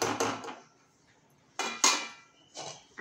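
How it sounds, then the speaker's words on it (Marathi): A lid set onto a cooking pot of mango raita, giving a couple of sharp metallic clanks and rattles near the mic, then a pause and another clatter as it settles. "आता झाकण ठेवायचं आहे"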